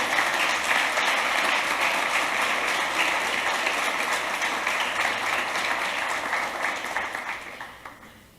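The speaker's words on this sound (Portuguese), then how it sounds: "Você pode aplaudir o nome do Senhor Jesus?" A church congregation at a Sunday service claps loudly and steadily as one continuous wash, holding strong for most of the time before thinning and fading out at the end.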